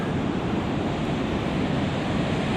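Ocean waves wash in steadily at Sleaford Bay, a dense, continuous surf roar mixed with wind buffeting the microphone and no voices.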